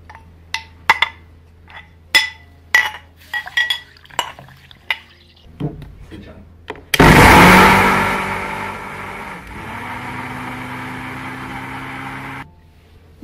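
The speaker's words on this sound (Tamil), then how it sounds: "நம்ம இப்போ பால் எடுக்கிறதுக்காக இந்த முளைக்கட்டிய ராகியை வந்து நம்ம மிக்சியில் போடுறோம்" A kitchen mixer grinder whirs loudly as it grinds sprouted ragi with water, starting abruptly after several clinks of utensils and running steadily for about five seconds before cutting off.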